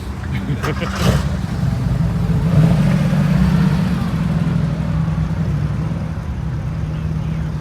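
Steady stream of cars passing nearby, a continuous engine rumble that swells and eases, with people talking over the traffic.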